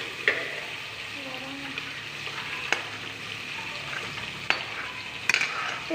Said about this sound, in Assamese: এইখিনি ৰঙচুৱা হোৱালৈকে মই ভাজি ৰাখিম।